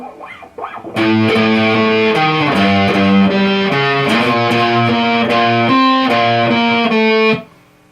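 A distorted electric guitar plays a chugging riff of repeated notes, loud and close, starting after a second of quiet and ending abruptly.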